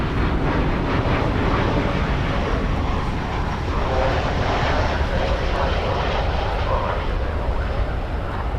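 A Boeing 737 MAX 8 inbound from Bozeman passes at Dallas Fort Worth airport with a loud, continuous jet-engine roar that holds steady throughout, with no voices on top.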